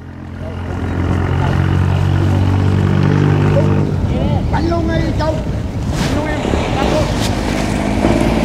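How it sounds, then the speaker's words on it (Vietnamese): Komatsu 750-horsepower engine on a Vietnamese purse-seine fishing boat revving up: a steady, heavy low rumble rising in intensity, with wind buffeting and water noise over it, loud and close. "Động cơ Komatsu 750 mã lực đang quang lên."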